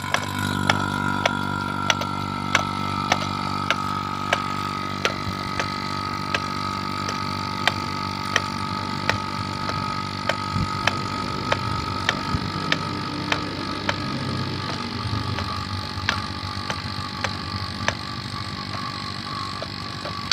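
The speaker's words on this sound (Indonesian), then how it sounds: "Kemudian kita hidupkan mesin vakumnya." A vacuum pump hooked to a Daikin inverter air conditioner's manifold runs steadily, a constant motor drone with a faint regular ticking, alone and without speech.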